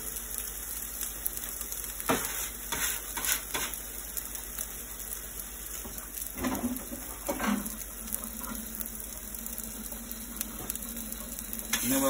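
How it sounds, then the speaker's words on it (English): Meatballs browning in a pan for a meatball hero roll, a steady soft sizzle and frying hiss running throughout with occasional stirring and turning clatters, close and moderately loud. "So what we're doing is basically just browning all of the,"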